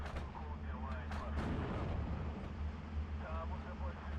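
Mortar fire in the WWII strategy game Steel Division 2 rumbles as low, distant booms and heavy detonations, with a voice talking faintly over the battle din.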